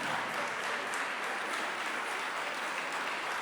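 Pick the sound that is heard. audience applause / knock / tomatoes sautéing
audience applause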